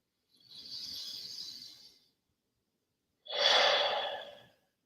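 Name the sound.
deep breaths during EFT tapping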